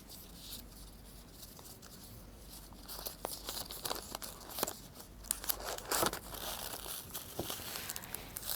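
Oiled wrapping paper crinkles and tears as it is peeled away from a 110-series injector valve assembly, with dense, close crackling that grows busier and louder toward the end, and no talk.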